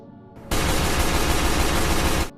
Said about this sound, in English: Gunfire erupted inside a motel room